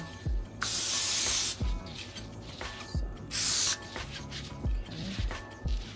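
Two long hissing sprays from an aerosol can of cooking spray onto hands, each lasting about a second, with softer handling thuds and rustles between them.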